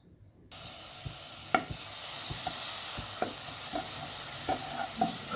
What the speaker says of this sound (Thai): เริ่มคั่วให้หอมเลยนะครับ